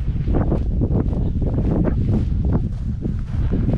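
Strong wind buffets the microphone at an airbase where gyrocopters fly, a loud, continuous broadband roar with gusting surges and no clear speech.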